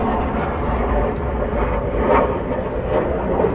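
Two F-15 fighter jets approaching downwind at RAF Lakenheath, a broad, steady distant jet roar without distinct peaks, with faint voices in the background.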